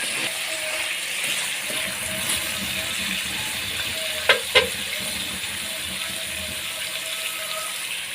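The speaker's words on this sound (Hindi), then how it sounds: "अच्छे तरीके से चिकन को आपने भूनना है ताकि कच्चापन इसका ख़त्म हो।" Chicken being browned in a pan for aloo gosht, with a steady bright sizzle and hiss throughout, a couple of sharp clinks from stirring near the middle, close and continuous.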